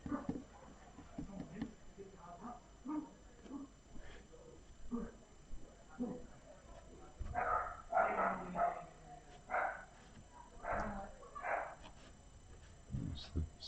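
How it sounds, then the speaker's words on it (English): A dog barks in a fight with a man, sharp yaps and barks coming in irregular bursts at moderate distance against a quiet background, with some shuffling and scuffling between them. "That's the sound you can hear is a man getting into a fight with a dog"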